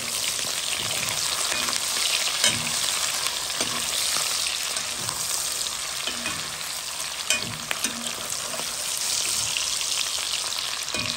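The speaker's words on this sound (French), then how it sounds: "Maintenant, je vais mettre les oignons." Onions and onion tops hit hot oil and frying smoked meat for a Creole carry, giving a steady, close sizzle with stirring scrapes and small pops throughout, no voices.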